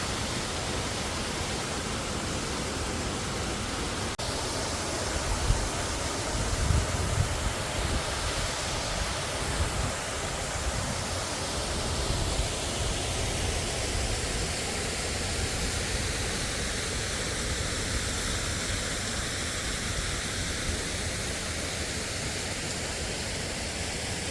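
Steady broadband rushing of falling water, constant and enveloping throughout with no breaks, like a nearby waterfall pouring continuously.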